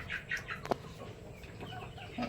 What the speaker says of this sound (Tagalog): Yan po si Kanor, yung ating pure native na barako.